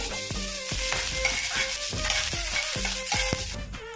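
Curry leaves, cashews, raisins, green chili and ginger frying in ghee or oil for an idli snack, a close steady sizzle with repeated sharp stirring clinks of a spoon against the pan.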